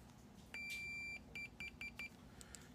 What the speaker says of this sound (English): we'll check for continuity